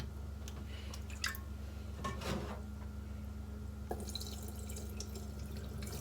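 Japanese sticky rice is rinsed with water before cooking in a rice cooker: quiet dripping and wet swishing with a couple of soft splashes over a steady low hum, with no talking.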